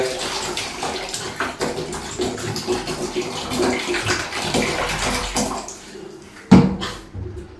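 Water with about four spoons of vinegar swishes and splashes in a vessel in a steady wash for several seconds, ending with a sharp louder slosh near the end.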